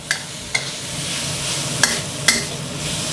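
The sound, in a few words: stir-frying holy basil with minced pork in a pan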